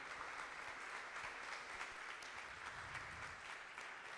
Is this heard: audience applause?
yes